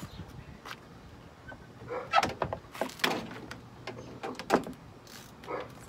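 Plastic clips and trim of a van's interior door panel popping and knocking as it is pried off, a series of close, sharp clacks and scrapes over a quiet background.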